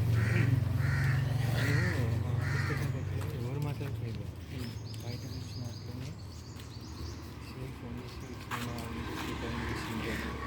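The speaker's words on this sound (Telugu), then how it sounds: "పైనుంచి కాకి సౌండ్ కాకి అరుపులు వినిపిస్తున్నాయి" Crows caw repeatedly in short harsh calls overhead at midday in Hyderabad, a few rhythmic bursts at first, while a person talks steadily throughout.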